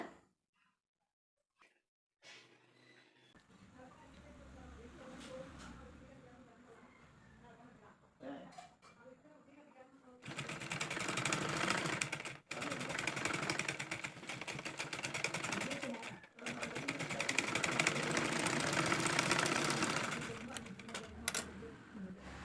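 Sewing machine running steadily for about ten seconds, stitching around the neckline of a churidar nighty, close and moderately loud, after a quieter stretch of handling noise.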